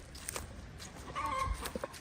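A chicken in a farm chicken coop gives a short run of agitated clucks over quiet ambient noise, with a brief louder squawk near the end and no one talking.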